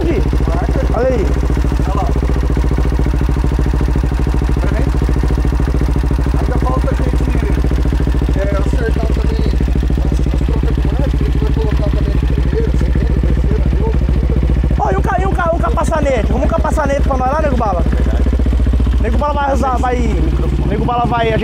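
A Brava Start 470cc motorcycle engine idles steadily with a low rumble while people talk nearby in Portuguese over it.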